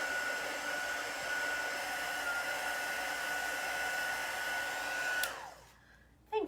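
An electric heat tool blows steadily at close range while heat-setting chalk paste on a towel, a constant whirring hiss with a high whine that cuts off near the end, leaving a short quiet tail and a bump.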